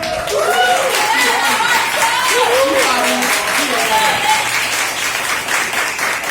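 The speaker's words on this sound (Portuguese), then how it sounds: "Eu quero pedir para te dar uma salva de palmas do trabalho do Robson" Loud, sustained applause from a crowd, dense clapping throughout, with voices calling and chattering underneath.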